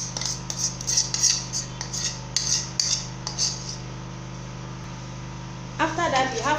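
African salad (ugba) mixture being stirred with a utensil in a bowl, giving repeated light metallic clinks and scrapes in an uneven rhythm over a steady background hum, with a short stretch of voice near the end.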